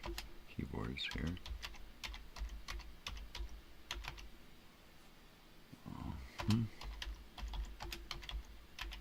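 Someone types on a computer keyboard in scattered bursts of sharp clicks. The typing is quiet and nearby, broken by a few louder low thumps and a short stretch of voice.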